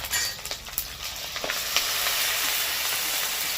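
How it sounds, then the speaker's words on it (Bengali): Onion paste fries in butter with ginger and garlic, giving a dense, even sizzle that swells after a few stirring scrapes and then holds steady and close. "পেঁয়াজ বাটাটাকে একটু হালকা করে ভেজে নেব"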